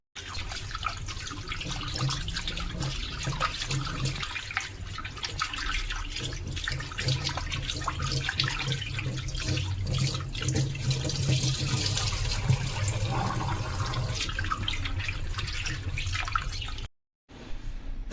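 Cut pomfret fish pieces are washed under a running kitchen tap, a steady loud rush and splash of water with small drips and handling sounds, continuous and close, briefly cutting out near the end.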